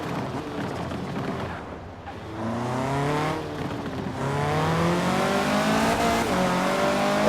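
A KTM X-Bow GT4 race car engine accelerating in Forza Horizon 4, a loud continuous rising drone with climbing harmonics, a short dip as it shifts gears, then pulling harder again through the following gear.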